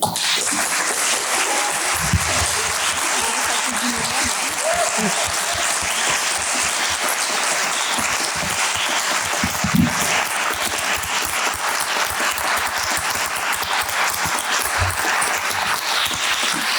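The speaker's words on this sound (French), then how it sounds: "Je pense qu'on peut applaudir" Audience applause after a round-table discussion at a festival evening, a dense steady clapping that fills the room throughout, with a voice or two briefly audible underneath.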